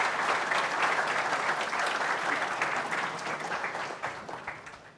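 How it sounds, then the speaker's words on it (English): A room full of people applauding for volunteers, dense steady clapping that starts strong and slowly fades over several seconds. "Let's clap it up for those who volunteered."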